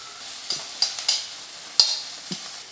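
Onions and green chillies fry in a pan for peanut chutney, giving a faint steady sizzle broken by several sharp stirring clicks and scrapes; no one speaks.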